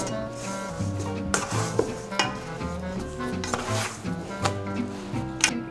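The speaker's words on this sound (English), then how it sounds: "I switch over to my dough spatula to really scrape the sides of the bowl" A dough spatula stirs sourdough pizza dough and scrapes around the sides of a bowl, giving steady close-up scraping and stirring with small clacks against the bowl and no talk.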